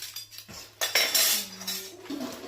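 Kitchen utensil spoons being handled, a few sharp metallic clinks and scrapes close by, with one ringing tone lingering between the knocks and no talking.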